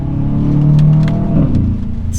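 An Aston Martin DBX 707 SUV accelerating hard on a winter drive, its engine rising in a loud, smooth, swelling roar heard from close by, with no talking over it.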